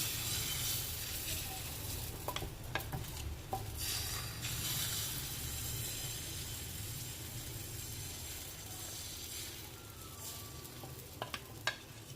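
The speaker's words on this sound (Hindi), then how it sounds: "अब इस स्पून की मदद से जो है हम इस बैटर को इस तरीके से डालेंगे।" Batter spooned into an oiled pan for Chinese egg chicken rolls sizzles steadily and softly, with a few spoon clicks and scrapes against the pan and a low background hum, no talking.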